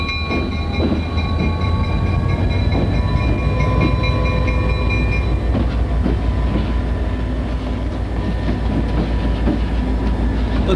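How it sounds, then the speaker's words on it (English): An EMD SD40 diesel locomotive backs onto a train up close, a loud steady engine drone with tonal hum and metallic clanks and clatter of rolling wheels throughout. "Let's see SD40 back onto the train"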